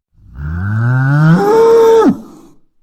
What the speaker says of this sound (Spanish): Una vaca, ¿eh?